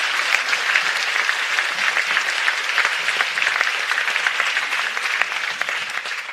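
An indoor audience at a talk on fighting the far right claps steadily and densely. The applause stays loud and even for the whole stretch, with no voices over it.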